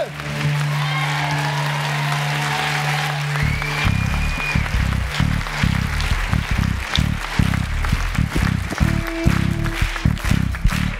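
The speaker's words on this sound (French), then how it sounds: "Applaudissez la liberté de l'Esprit de Dieu." At the Amen-Toi worship festival, an audience applauds for about eleven seconds. Rhythmic low music begins partway through and continues beneath the clapping.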